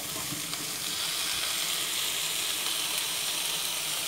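Carrots, cauliflower, mushroom and broccoli sizzle steadily in a hot pan, a dense, even crackle and hiss heard close up with no talking.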